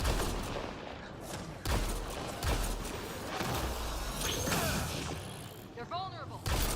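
Dense video game gunfire in a horror shooter, loud rapid bursts and mechanical clatter layered with game effects and a voice talking now and then.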